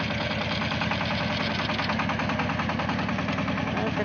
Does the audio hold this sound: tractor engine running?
yes